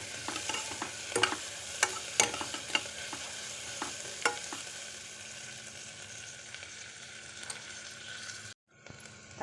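Onions sizzling and frying in oil in a pan, with a steady hiss under sharp clicks of a utensil stirring and scraping, close and fairly quiet, ending in a brief cut.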